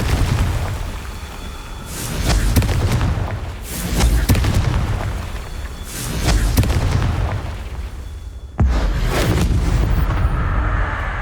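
Confringo fire spell explosions in the game Hogwarts Legacy: a run of loud, booming blasts every couple of seconds, each bursting then rumbling away, with a sharp final impact and no talk.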